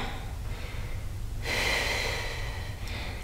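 Heavy breathing during a Pilates HIIT workout, close and fairly quiet, a low breathy rush that swells into one stronger exhale or gasp partway through.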